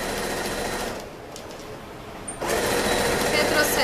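A sewing machine stitches a fabric pencil case with a steady, close mechanical whir; it eases off briefly midway, then picks back up at full speed.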